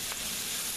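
Garlic and red pepper flakes hiss in a pan under a brief stir, a steady broadband fry sound that is faint and continuous, with no talking.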